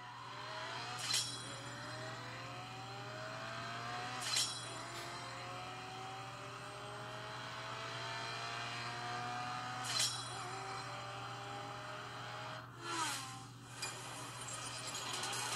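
Mobile racing game CSR Racing 2 on a Vernee X phone, playing a car engine that revs in rising gear-shift sweeps, with a few sharp clinks, a brief crash burst, and a faint steady hum underneath.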